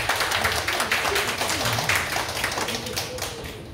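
A church congregation at a Friday night service claps together, a steady wash of applause with brief voices mixed in, holding even throughout.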